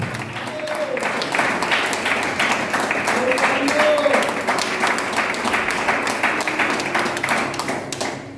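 Steady crowd applause at a church service, dense clapping throughout, mixed with voices and some background music, sustained at an even level.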